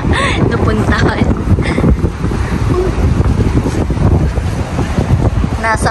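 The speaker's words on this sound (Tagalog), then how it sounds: "Sobra mahangin sa labas." Strong wind buffets a microphone outdoors in Abu Dhabi, a loud, gusting rumble that roars continuously, with brief voices at the start and end.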